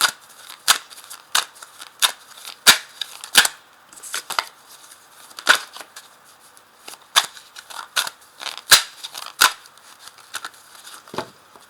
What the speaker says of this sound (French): Je vais quand même faire la découpe ici de mon jeu.